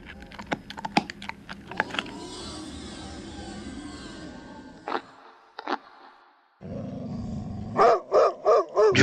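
A dog eating greedily from its bowl, with close, irregular chomping and clattering bursts, a short quiet gap, then rhythmic louder gulping pulses toward the end.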